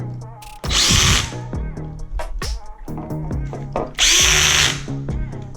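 A power drill tightens two screws on a ceiling fan mount, with two loud close whirring bursts separated by shorter revs, clicks and handling noises.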